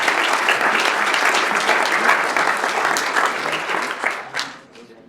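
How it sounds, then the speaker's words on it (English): Audience applause for pitch teams at a fall ice-fishing-themed Walleye Tank event. The clapping is dense and sustained, then thins and fades out near the end. "So let's give all of our teams a round of applause."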